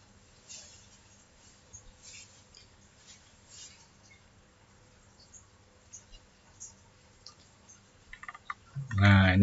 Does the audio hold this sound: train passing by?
no